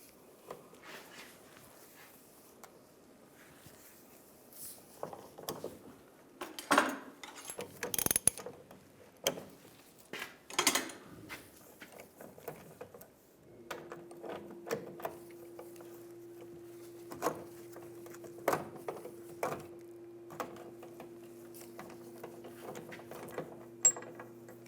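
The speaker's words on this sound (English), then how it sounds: "Using a 15mm socket, we're going to take the bolts out where the straps are." A 15mm socket on a hand ratchet backs out the leaf spring strap bolts on a 2007-2013 Chevrolet Silverado, with quiet, close, irregular runs of rapid pawl clicks and clanks of metal, broken by pauses.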